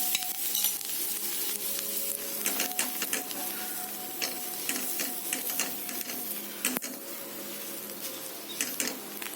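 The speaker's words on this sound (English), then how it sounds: "Just saute this." Onion and vegetables for pav bhaji are sautéed in butter with chili powder and coriander leaves, giving a continuous sizzle broken by busy, irregular scraping and tapping of the spatula against the pan.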